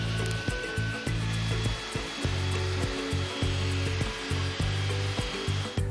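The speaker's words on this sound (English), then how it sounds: "I used various belt sanders, random orbital sanders and of course sandpaper by hand in the end." A walnut and resin dining table is sanded, producing rhythmic rasping strokes about every half second over a continuous low hum, close and fairly loud, with no talking.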